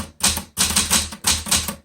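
Someone types on a Smith Corona Galaxie Twelve manual typewriter, original blue, in three close, loud bursts of rapid key strikes.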